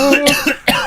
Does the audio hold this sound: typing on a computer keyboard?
no